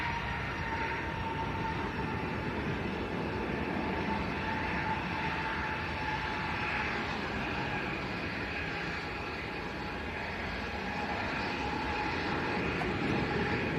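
A SunExpress Boeing 737-800 bound for Antalya at Leeds Bradford Airport produces a continuous jet engine drone with a faint tonal whine, steady and moderately distant, with no voices.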